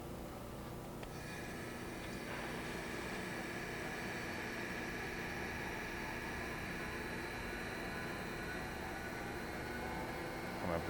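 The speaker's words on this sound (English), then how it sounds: "We're going to start the spindle." An Okamoto PRG6 DXNC CNC rotary surface grinder with a FANUC 21i control starts its spindle, a steady broadband whir and hum that rises with sharper tonal whine from about one second in and then holds even and loud.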